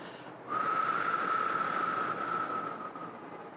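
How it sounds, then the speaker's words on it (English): A long, steady breath blown out through pursed lips, carrying a thin whistling tone for about three seconds, close and alone. "Release the breath out through pursed lips, as if you're breathing out long and steady through a straw."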